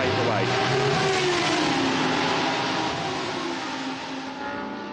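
A Lamborghini Super Trofeo race car at Portimao pulls away from the pits, its engine note rising and falling in loud, sustained whine with shifting pitch, mixed with commentary.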